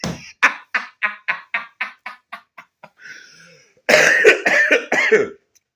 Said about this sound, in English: I got a little cough.